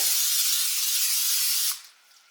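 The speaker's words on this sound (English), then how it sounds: "Give it a spray" A steady aerosol cooking spray hisses onto a casserole dish for under two seconds, close and loud, then cuts off abruptly.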